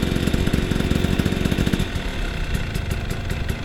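A motorcycle engine idles close by at a motorcycle training academy, a steady rough mechanical chug with a slight dip partway through, continuous and fairly loud with no speech.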